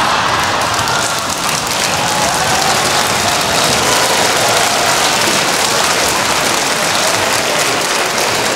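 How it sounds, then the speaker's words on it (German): A studio audience at a German comedy duo's show claps steadily and loudly in a thick, rain-like wash of applause that continues without a break. "Warum klatschen Sie?"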